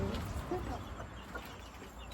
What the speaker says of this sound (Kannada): ನಮ್ಮ ಕೋಳಿಗಳು ನೋಡಿ